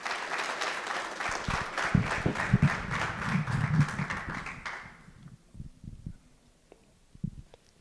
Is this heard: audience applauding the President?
yes